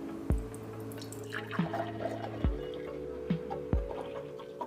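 Fresh juice from a Hurom H310 juicer drips and trickles through a strainer, with several distinct drops landing at a slow, uneven rhythm over a faint continuous trickle, close and quiet without talking.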